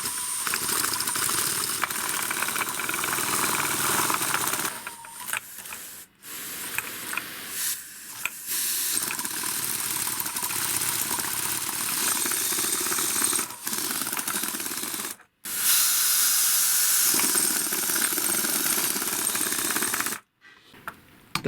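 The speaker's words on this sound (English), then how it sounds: "it's very hard to blow, so I'm going to try a little bit of an air compressor, see if that will make it work" An air compressor nozzle blows air through a vape device in loud, continuous hissing blasts that cut off abruptly a few times and then restart, close and harsh.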